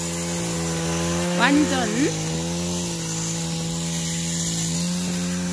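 A power tool trims and prunes flowering trees on a nursery farm, a steady droning motor running throughout, with a voice speaking briefly over it early on.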